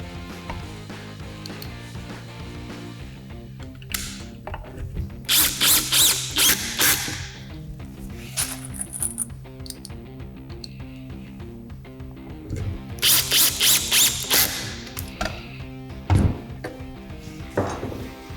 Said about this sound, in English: Reset my drill and put in the screws.